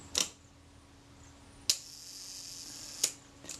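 Retina Reflex S camera shutter fired at its 1-second setting, heard as three or four sharp, close mechanical clicks spaced about 1.5 seconds apart. The shutter is sluggish and in need of service, and the clicks sit alone over faint background hiss.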